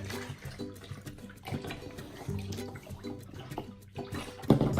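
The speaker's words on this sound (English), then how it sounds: "Water!" Water pours and splashes into slime in a bowl, a steady gurgling stream close by with shifting sloshes and a louder splash at the end, no voices.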